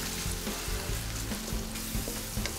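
Squid balls frying in a hot pan, a steady dense sizzle with soft stirring and occasional low bumps, close and alone with no talk.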